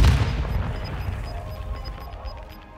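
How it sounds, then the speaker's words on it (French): A grenade explodes in the Call of Duty Warzone 2 video game, a loud boom at the start that rolls off into a long fading rumble with faint metallic pings trailing behind. "J'envoie une grenade."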